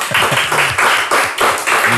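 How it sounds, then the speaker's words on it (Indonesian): Studio audience at a podcast applauds loudly and continuously, dense clapping filling the whole stretch close to the microphone. "Boleh boleh tepuk tangan dulu"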